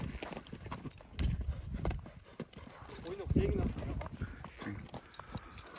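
A horse for sale walks on open ground, its hooves making an uneven clip-clop. Someone talks over the steps throughout, and faint background noise sits underneath.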